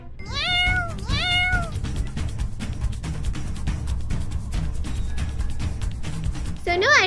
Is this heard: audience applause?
no